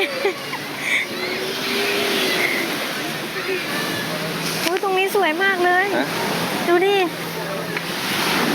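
Sea surf rolling onto a secluded beach in Pattaya under steady wind noise, a continuous wash of waves with a voice speaking over it near the middle and end.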